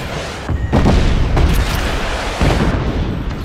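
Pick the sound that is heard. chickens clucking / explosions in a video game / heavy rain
explosions in a video game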